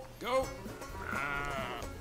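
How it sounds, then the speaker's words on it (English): Sheep bleating in a sheep-herding video game with an aggressive AI opponent: one short bleat, then a longer, wavering bleat, fairly close and clear. "that's all you need when you're herding sheep with a particularly aggressive AI opponent"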